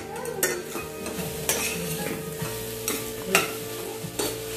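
Grated carrot stirred and sautéed in a pan for carrot halwa, with a steady sizzle and repeated scraping strokes of a spoon against the pan, close and clear, no voices.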